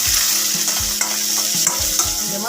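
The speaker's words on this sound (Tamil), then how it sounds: "வெங்காயம் ஒன்று பொடியாக நறுக்கியிருக்கேன்," Chopped onion fries in a pan with a steady loud sizzle, while a spoon scrapes and stirs it in a regular rhythm of knocks about every half second. No one speaks.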